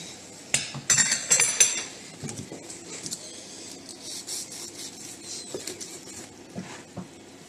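A knife slicing through a breaded cordon bleu on a board, giving a burst of crisp, crackly crunching cuts and clinks near the start, then softer scraping and tapping.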